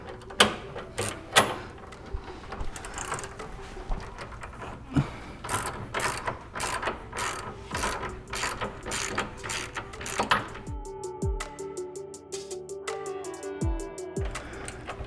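A ratchet wrench clicks in quick bursts as bolts are tightened on a Euro Sport lower front brace under an MK6 GTI, then a faster, finer ratcheting run follows; close and fairly quiet, with no voices.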